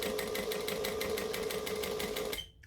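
A sewing machine stitches along the top of a bag, running at a steady rapid pace with a fast regular needle rhythm, close and loud, before stopping abruptly near the end.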